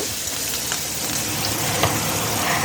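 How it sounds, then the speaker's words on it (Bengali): Capsicum sizzles in a hot pan as it is half-cooked, with a constant crackling hiss and a few faint clinks of a utensil. Nobody speaks. "ক্যাপসিকামটাকে ভালো করে ভেজে দেবো মানে হাফ কুক করব"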